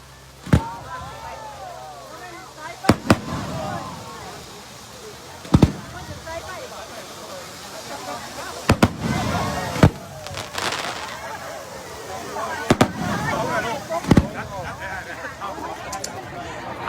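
Scattered loud pops and bangs of fireworks at a Lao People's Revolutionary Party anniversary celebration in Champasak Province, echoing at irregular intervals over a constant crowd murmur and background chatter.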